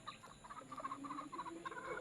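Red junglefowl (manok labuyo) caught in the forest give soft, rapid clucks, faint and close, over steady background noise.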